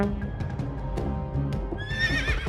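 A horse whinnies loudly, its high wavering neigh rising near the end over a low rumble of hooves and background noise.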